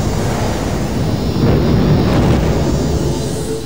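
A supernova explosion sound effect, a dense roaring rumble like a deep cosmic blast, steady and loud across the whole span with a slight swell midway, no voices.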